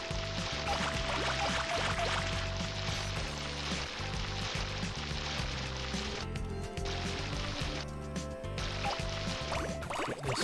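Game water in Katamari Damacy Reroll, a soft, steady pouring and sloshing that runs throughout beneath a rhythmic musical backing.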